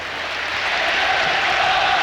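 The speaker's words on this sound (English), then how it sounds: "The crowd now standing on their feet, applauding the players who have all met in the centre circle, shaking each other's hands" Football crowd at a charity celebrity match at Valley Parade, Bradford, standing to applaud the players; a steady, dense wash of clapping and crowd noise, fairly loud and continuous throughout.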